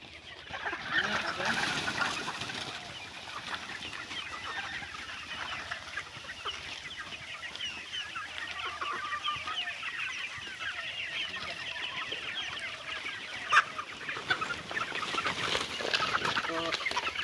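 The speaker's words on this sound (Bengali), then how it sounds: "অনেকগুলো ফার্মি মুরগি আছে" Farm chickens clucking inside a shed, a steady dense chorus of overlapping clucks and calls throughout, with a sharper squawk near the end and a faint voice underneath.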